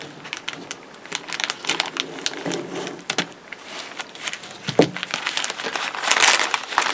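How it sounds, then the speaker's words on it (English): Plastic wrapping on a Lindberg 1/72 A4D Skyhawk model kit box is cut open, with irregular close crinkling, tearing and rustling bursts and small handling knocks throughout. "I'll just cut it open here"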